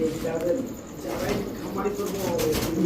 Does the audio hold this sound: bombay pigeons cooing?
yes